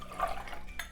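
Lemonade mixture for Indian shikanjabi pours into a glass packed with ice cubes, giving a short, soft splash and liquid trickle with faint clinks, brief and quiet.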